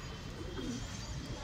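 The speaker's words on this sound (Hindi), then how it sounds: "सुबह सुबह कबूतर खोल दिए हैं मैंने अपने" Pigeons let out of their coop in the morning give a soft, low coo, heard once and faintly in a quiet moment.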